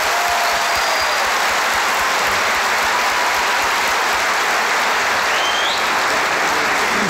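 Loud, even audience applause in a studio comedy show, a thick continuous wash of many clapping hands lasting about seven seconds without a break.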